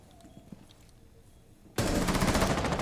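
Rapid automatic gunfire in Rainbow Six Siege bursts in loud and sustained after a quiet lead-in with faint game noises, the shots rattling continuously to the end.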